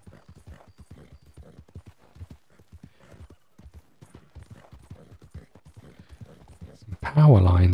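Horse hooves on the ground in Red Dead Redemption 2, with a steady, rhythmic clip-clop of a ridden horse close by, followed by a sudden loud burst of noise at the end.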